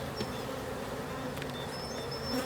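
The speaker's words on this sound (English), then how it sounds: "That hive's got a lot of bees." Buckfast honeybees hum in a dense, steady buzz around an opened hive during an inspection, faint and continuous with occasional individual bees droning past nearby.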